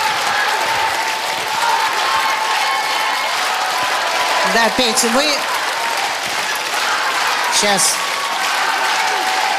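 Sustained ovation from a figure skating arena audience fills the whole stretch, a steady wash of clapping and crowd noise with commentators' voices talking over it near the middle and end.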